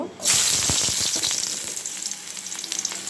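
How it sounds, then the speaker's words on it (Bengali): Baim eel fish hits hot oil in a pan with a sudden loud burst of sizzling that settles into a strong, crackling fry with scattered spits and pops. "মাছগুলো আগে ভেজে নিই"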